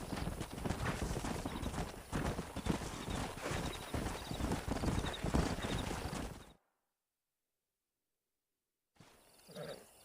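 Horses' hooves in Red Dead Redemption, a dense, close clip-clop of several horses trotting with steady rhythmic beats, cut off by a sudden silence before a brief return of sound.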